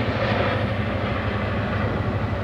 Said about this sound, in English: There's another military helicopter.